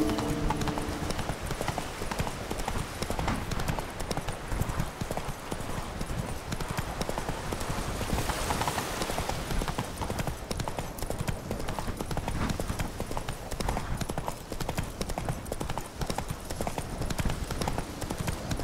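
Hoofbeats of the horse Roach galloping in the video game The Witcher 3: Blood and Wine, a steady rapid clip-clop running throughout, loud and continuous with game ambience underneath and no talking.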